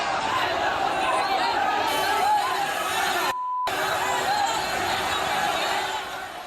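Rioters press forward toward police lines amid smashed barricades, and a loud, dense crowd roar of shouting and chatter fills the scene, broken by one abrupt cutout before the din resumes.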